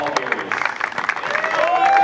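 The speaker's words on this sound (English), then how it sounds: "Let's have a round of applause for both former national championship teams" Audience applause and cheering for two former national championship college soccer teams, the 1972 Westmont Warriors and 2007 Azusa Pacific, a dense clapping crowd building steadily louder over a couple of seconds.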